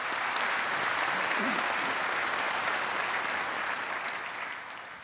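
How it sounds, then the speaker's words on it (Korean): An audience at a March 1 Independence Day ceremony claps steadily in a dense, sustained round of applause that tapers off at the end. "여러분 박수 부탁드리겠습니다."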